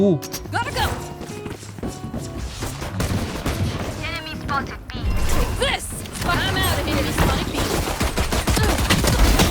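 Gunfire in the video game Valorant, bursts of rapid shots and impacts over game effects, with a voice talking through much of it.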